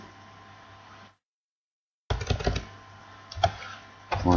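Computer keyboard typing in a spreadsheet program: a burst of clicky keystrokes, a second of silence, then denser, louder key taps with faint talk-like murmur, ending in a sharper flurry of presses.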